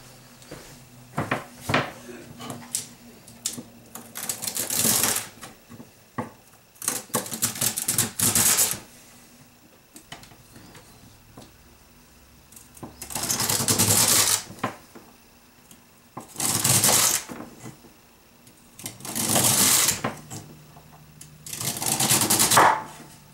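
Celery stalks being chopped with a knife on a board for dehydrating, in several separate bursts of quick, sharp, rhythmic cuts with short quiet pauses between them, close and fairly loud, with no talking.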